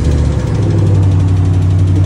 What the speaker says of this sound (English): The exhaust has been upgraded as well. As you can hear the rumbling